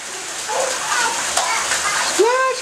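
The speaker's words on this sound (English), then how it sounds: "Splash a Chonky!" Baby Chonky splashes water in a bathtub, giving continuous sloshing and watery spatter, while an excited adult voice chatters over it.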